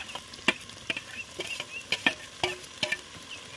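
Tomatoes and onions fry in oil over a wood-fired chulha for chicken, with a spoon scraping the pan in regular strokes over a soft sizzle and no voices.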